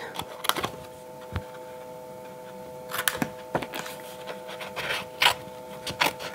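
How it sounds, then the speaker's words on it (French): Scissors cut through a scrap of paper for a handmade card, a few crisp close snips and rustling scrapes spaced irregularly, under a faint steady background hum. "je vais reprendre mon ciseau et je vais découper ma chute"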